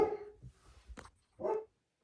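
Dogs bark in short separate bursts, a few yelps spaced across the moment, fairly close and clear with quiet gaps between them and no talking over them.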